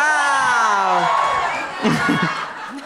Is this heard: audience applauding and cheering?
yes